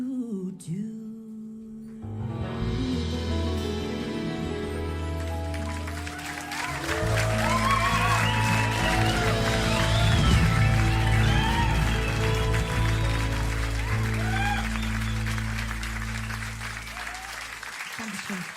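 Audience applause at a country concert, a broad sustained wash of clapping and crowd noise that swells and holds while music and a voice continue underneath.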